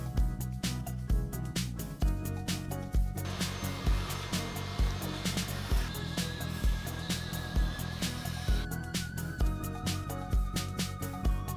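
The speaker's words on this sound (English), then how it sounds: "we need to go on the inside and vacuum out any of the dirt that might have actually gone within the machine" A vacuum cleaner drones steadily while it cleans inside a Glowforge laser cutter. The close, continuous whine of the motor is broken by regular rhythmic clunks and rattles from the nozzle working around the machine's interior.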